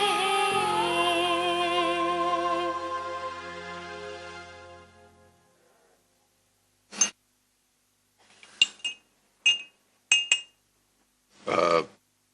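A spoon clinks against a glass while sugar is stirred into tea, a few sharp, bright taps spaced out over several seconds that follow a fading stretch of music.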